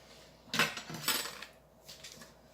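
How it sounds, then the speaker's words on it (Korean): Kitchen knife slicing shiitake mushrooms, stems removed, into thin strips on a cutting board: a few quiet, sharp chopping taps in two short clusters with a fainter tap afterward. "표고버섯은 기둥을 떼고 채를 썰어주시면 돼요"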